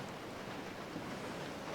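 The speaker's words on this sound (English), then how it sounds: "It is pouring out there." Heavy rain pours down outdoors on a steelhead fishing river, a steady broadband hiss with no breaks, dense and close around the listener.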